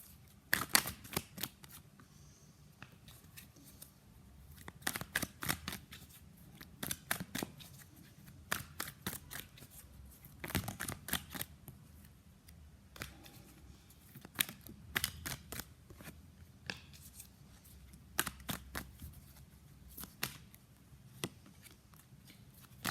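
Tarot cards being shuffled and drawn from a deck, repeated crisp riffling and snapping bursts in irregular clusters, close and fairly quiet, with no talking.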